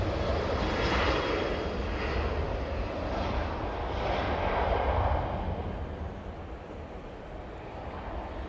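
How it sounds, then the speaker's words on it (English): An Emirates Airbus A380 lands on runway 05R at Manchester Airport, its engine roar broad and steady at moderate distance with wind noise, swelling slightly then easing as it touches down. "Beautiful landing there from the Emirates A380."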